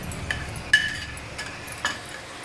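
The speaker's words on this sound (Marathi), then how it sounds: "तर ह्याच्यामध्ये कोळंबी टाकून घेऊया।" Prawns stirred into roasted masala in a pan for kolambi kalvan, with soft scraping and a few light metallic clinks of a spoon against the pan over a low sizzle.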